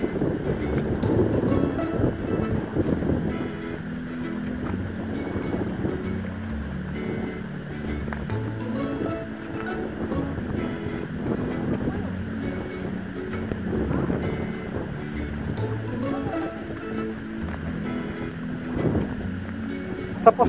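Outboard motor of a small fishing boat running on open sea, a steady mid-level drone mixed with wind buffeting the microphone and water noise. Voices come through faintly at times.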